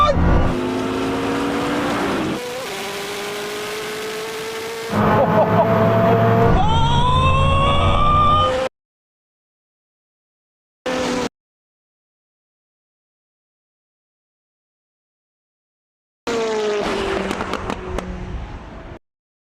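Bugatti Chiron Super Sport and Koenigsegg Jesko at a drag race, loud engine roar with rising gear-change sweeps in bursts, cut by silent gaps and a short blip, then another surge; a voice cheers over the start.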